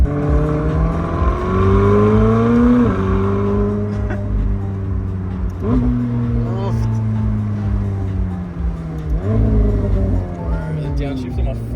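McLaren 765LT in city traffic, engine pulling hard through several upshifts with the rising note dropping at each change, loud and steady from inside the car, with occupants talking over it.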